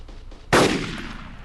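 A single sharp CZ 550 sniper rifle shot cracks out in DayZ, a loud, sudden blast followed by a long rolling echo that fades over the next second, after a short quiet stretch.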